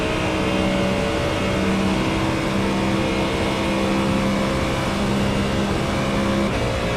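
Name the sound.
GT3 race car engine and gear shifts in a racing simulator video game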